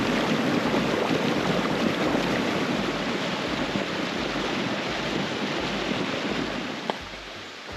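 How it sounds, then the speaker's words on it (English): Steady, loud rushing water of an Adirondack mountain stream on the trail to Mount Marcy roars continuously like a powerful jet, a broad wash of noise with no speech. "Is that the water making that noise? It sounds like a jet."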